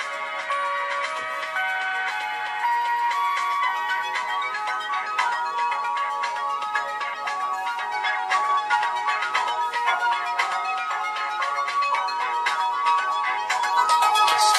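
A ringtone melody plays through the small speaker of a Moto G Power 2022 phone, thin and tinny with no low end, continuous and fairly loud with no talk.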